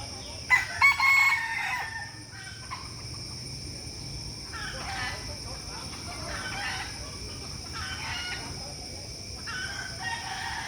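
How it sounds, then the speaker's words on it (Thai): A rooster crows loudly near the start, then more crowing and clucking from other fowl carries on at a distance over faint background noise. "พาคุณ พาเพื่อนมาเบิ่งไก่"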